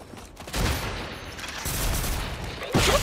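Bursts of gunfire in Generation Zero, loud repeated volleys with booming reports spread through the moment, punctuated by a sharper blast near the end.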